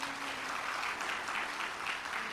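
An audience at a Hindu religious katha gathering claps together in a continuous dense burst of applause at an even level, with no voices over it.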